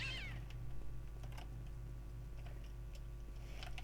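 A cat meows once near the start inside the video game Postal 2, a short rising-falling cry heard over a steady low game hum, followed by faint scattered clicks.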